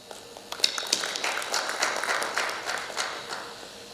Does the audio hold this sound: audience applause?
yes